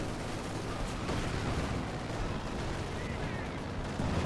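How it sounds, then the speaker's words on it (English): Mortar and artillery fire in Company of Heroes 2 rumbles as a steady, dense wash of distant booms and crackling impacts, fairly faint and continuous with no clear gaps. "Oh, that's mortar cover."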